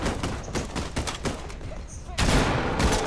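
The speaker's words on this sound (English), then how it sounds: "that's just Finn shooting pointlessly" Rapid gunfire from a Fortnite match, a teammate shooting in dense bursts that run throughout, growing louder toward the end, with players talking over it.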